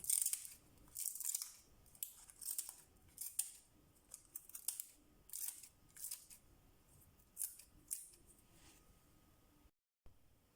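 Scissors chop dry onion skins into small irregular pieces, a close run of quick, crisp snips and rustles in uneven bursts, quiet, ending with a brief silence.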